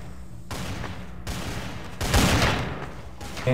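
Bursts of rapid gunfire from a Counter-Strike: Source match crackle in quick volleys, loud and close, one stretch sharper and denser than the others, with no talk over it.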